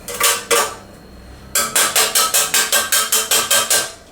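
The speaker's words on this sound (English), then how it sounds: "you can always use a knife and just carefully scrape it out into your bowl" A knife scrapes lemon zest off a metal grater into a bowl: two separate rasping strokes, a short pause, then about ten quick, rhythmic scrapes, close up with no talk.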